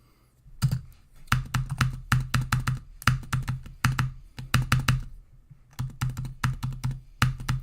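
Close, loud keyboard typing in quick bursts of clacking keystrokes, with short pauses between flurries, no talking.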